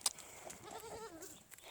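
Goats bleating in a farm goat pen, a nanny goat with her twin kids nearby, with a couple of quiet cries and faint shuffling movement at close range.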